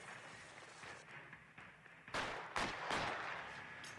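Several gunshots in a video game burst out in quick succession over a steady background hum. The shots are fairly close and loud, with irregular spacing and no talk over them.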